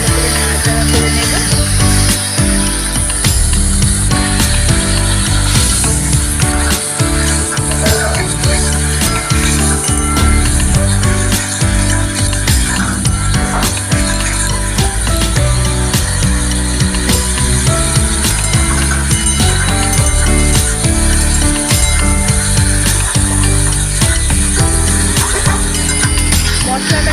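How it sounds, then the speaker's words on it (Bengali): Spice paste for a katla fish curry, made with Kashmiri chilli powder and a splash of water, fries in a pan with a loud, continuous sizzle and scraping stirring that runs for almost half a minute. "মশলাটাকে আমি খুব ভালো করে কষিয়ে নিচ্ছি।"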